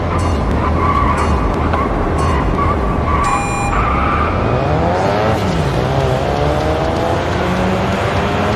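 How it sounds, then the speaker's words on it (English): A race car in the Racing Master mobile game roars through a corner, engine revving loudly before tires squeal in a drawn-out drift with sliding pitch, punctuated by short electronic game tones near the start. "Then tap the handbrake to induce a drift."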